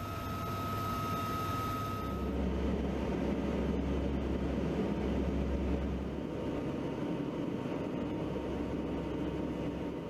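A P-3 Orion patrol airplane flies overhead, a steady, loud droning roar of engines that holds for the full ten seconds, with a brief high tone early on.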